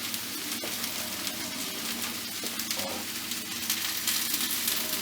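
Mushrooms and garlic paste frying in a pan for a Chinese chicken curry, a steady close hiss and crackle of sizzling that swells slightly near the end.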